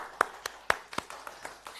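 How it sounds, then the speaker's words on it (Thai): A few people clap to welcome a guest during a Thai Facebook live stream: about a dozen sharp, separate hand claps at an uneven pace, close and fairly quiet, with no voices over them. "ขอเสียงปรบมือต้อนรับน้อง"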